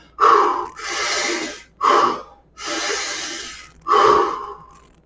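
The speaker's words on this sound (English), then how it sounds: "when I go to recover, I'm going to be out of breath. So I'm going to stay mouth only." A person recovering from breathlessness breathes heavily through the mouth, with three sharp close gasping inhales each followed by a longer rushing exhale, and nothing else heard.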